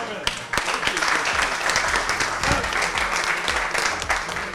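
An audience claps in steady, dense applause at a Turkish music performance, the sound close and full, with a voice talking over it.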